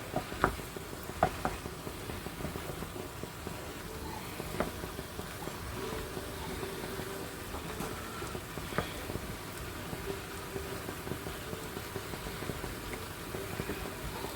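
Pasta with sun vegetables is stirred in a pan, a soft continuous sizzle with scattered scraping clicks of the utensil against the pan at close range, no talking.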